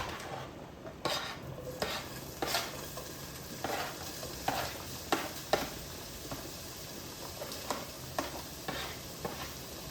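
Cut sausage pieces sizzle in a frying pan as a constant crackling hiss, with regular clattering knocks of a utensil against the pan every second or so.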